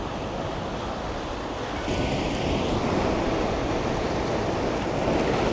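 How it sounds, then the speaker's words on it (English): Large ocean waves crash on the shore in a loud, continuous roar of surf mixed with wind, growing a little heavier after the first two seconds. "the waves are absolutely nuts"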